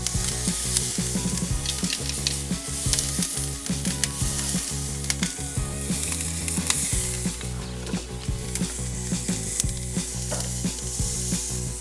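A seasoned steak sizzles on a hot barbecue grill, a loud, close, continuous frying hiss dotted with sharp crackles and pops, with no voices.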